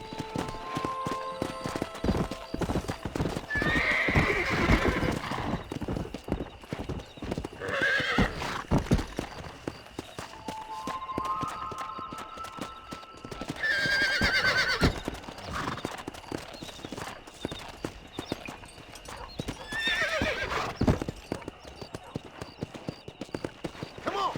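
Horses galloping in the video game Red Dead Redemption: a fast, continuous clip-clop of hooves throughout, with several loud neighs and whinnies rising above it, and voices speaking over parts of the ride.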